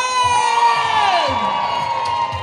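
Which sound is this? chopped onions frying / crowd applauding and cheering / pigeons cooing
crowd applauding and cheering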